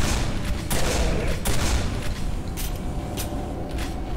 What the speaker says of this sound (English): A little bit of shotgun shells in your face!